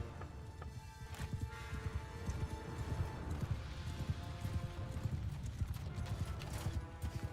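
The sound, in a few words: horses galloping in video game Mount and Blade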